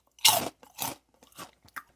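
Crisp crunching and chewing of light, salty corn snacks, close to the mic: a loud bite followed by several shorter crunches in an uneven rhythm, with no talking.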